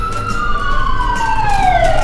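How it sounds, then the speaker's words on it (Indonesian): A siren on an emergency vehicle passing along a road wails loud and close, its pitch sliding steadily downward as it goes by, over a rumble of traffic. "serta suara sirine yang sering melintas di jalan raya."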